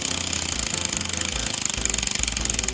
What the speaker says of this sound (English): It's a little too loud, but it's very cool at the same moment.